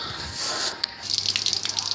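Water drips and trickles from a boiler valve, a soft wet patter that turns into quick, irregular close drips over a faint steady hiss.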